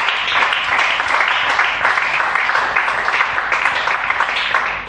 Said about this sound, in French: Nous acclamons pour notre Dieu.